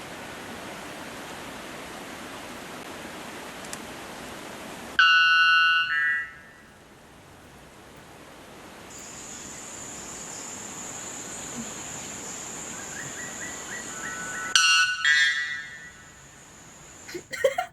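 A loud, harsh electronic-sounding bird call bursts out in stuttering pulses, like an alarm, twice over a steady background hiss, with a thin high tone between.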